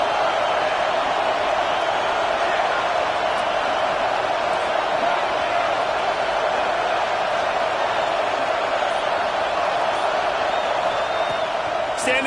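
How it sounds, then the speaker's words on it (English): A loud football stadium crowd roars continuously at a college game between Florida State and Michigan, a dense steady wall of cheering with a commentator talking over it. "Listen to this crowd just shaking the girders of this place"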